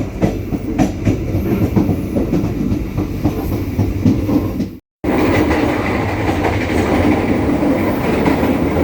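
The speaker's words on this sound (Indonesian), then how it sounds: "saat ini kereta Bangunkarta lepas dari stasiun Cirebon menuju ke stasiun Bumiayu" A passenger train on the Bangunkarta line rolls along the rails after leaving Cirebon station, with a steady rumble and rhythmic clatter; the sound cuts out for a moment midway, then continues.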